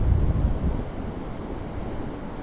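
Atlantic Ocean surf at Smith Point on Long Island, New York, with cold water, heard as a steady broadband wash of breaking waves and wind rumble. It is strongest at the start, then settles into a continuous roar with no voices.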